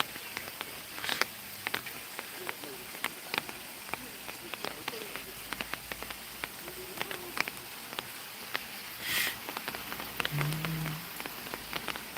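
Rain falls steadily at a herb garden in Bongpyeong, Pyeongchang, a soft continuous patter with scattered drops and faint insect buzzing. Occasional muffled voices sound in the background.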